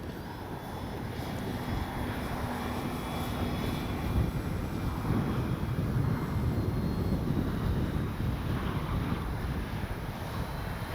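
A HobbyZone Carbon Cub S2 radio-controlled model airplane engine drones steadily at a distance, mixed with gusty wind buffeting the microphone throughout.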